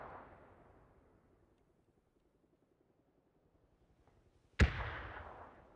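Grenade explosion in PUBG on the Erangel map, a single sharp blast that strikes suddenly after near silence and trails off in a rumbling decay, preceded by faint fading rumble.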